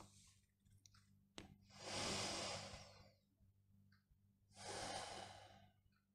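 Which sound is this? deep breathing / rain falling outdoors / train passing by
deep breathing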